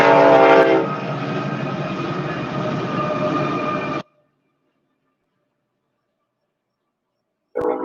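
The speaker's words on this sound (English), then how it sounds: "Train." A train rolls past loud and close for about four seconds, its steady horn tones running over the rumble, then cuts to silence before a short burst of the same noise returns at the end.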